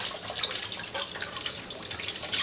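Tap water runs into a kitchen sink, a continuous soft splashing stream with faint irregular drips and clinks, heard alone at moderate volume.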